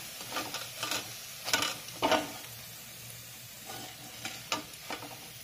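Onion and pea pakoras fry in hot oil with a gentle continuous sizzle, broken by several short bursts of stirring and spoon clatter, close and fairly quiet.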